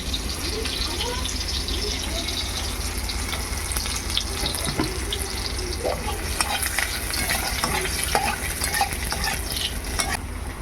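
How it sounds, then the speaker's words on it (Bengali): Chopped onion frying in oil in a home kitchen pan, a steady close crackling sizzle with stirring scrapes and running water in the background, while someone speaks faintly now and then. "পেঁয়াজ ভাজা ভাজা হয়ে এসেছে"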